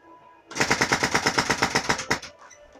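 Rapid burst of a toy Nerf blaster being pumped and fired, about fifteen quick, evenly spaced clacking shots close up that end abruptly.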